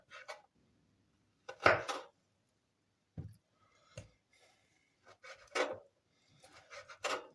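Scattered knocks of a knife chopping meat for Turkish saç kavurması on a board, isolated close thuds and scraping cuts with quiet pauses between, fairly soft overall.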